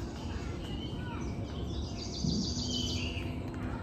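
Birds sing and chirp in a monsoon forest at Mahalakshmi Gad near Dahanu, Palghar, with steady high warbling phrases over dense rustling background noise, moderately loud and continuous throughout.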